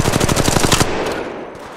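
Rapid automatic gunfire from Apex Legends Mobile, a loud burst of evenly spaced shots lasting under a second before cutting off into a fading tail.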